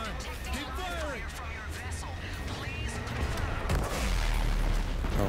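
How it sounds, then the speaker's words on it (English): Rapid, continuous gunfire rattles through a Call of Duty: Infinite Warfare battle, dense cracks and impacts that build louder toward the end, with voices talking throughout. "Keep firing!"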